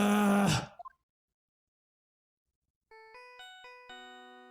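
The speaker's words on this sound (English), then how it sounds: "I actually really like this ringtone." A phone ringtone plays a bright, bell-like rising melody of clean electronic tones, starting after a burst of loud vocal noise and a silent gap.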